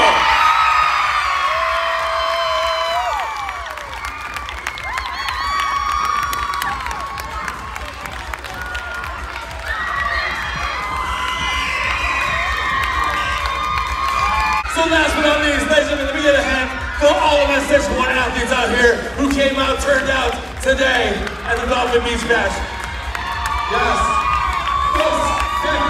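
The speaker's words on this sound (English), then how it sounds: "make some noise for East Hardin Middle School!" A loud school crowd cheers and shouts for the junior high winners, East Hardin Middle School, at a beach bash competition, with children's shrieks and whoops rising and swelling after a brief pause, sustained throughout with voices mixed in.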